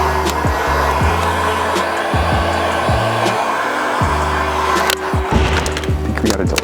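A heat gun blows a continuous loud whoosh over vinyl wrap on a car at an auto shop, with repeated low thumps and handling noises from the panel running underneath.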